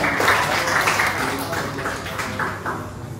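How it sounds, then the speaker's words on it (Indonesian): Steady broadband crowd clapping at a custom electric motorcycle build-off competition fills the whole stretch, a dense continuous patter of many hands at moderate loudness, with no pauses. "Boleh kita sambut dengan tepuk tangan yang paling meriah."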